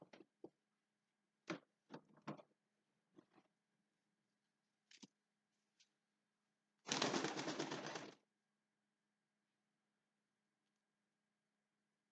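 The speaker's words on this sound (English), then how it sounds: "I have a real live bird to show you." A live bird at a nature center makes a few soft, short calls and rustles, then gives one longer, louder burst of about a second before falling quiet; close and faint, with no speech.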